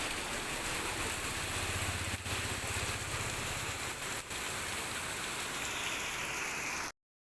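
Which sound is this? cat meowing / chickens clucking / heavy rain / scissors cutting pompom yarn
heavy rain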